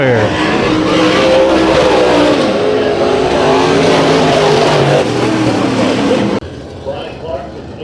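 Race cars roar loudly through a heat race at Bakersfield Speedway, engines revving hard and sustained close by before cutting to quieter distant track noise, with an announcer talking over them.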